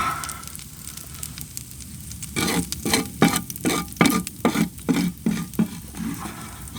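An egg frying in a pan inside a heated winter lavvu tent, with a low steady sizzle and then a series of rhythmic scraping strokes as a utensil works under it.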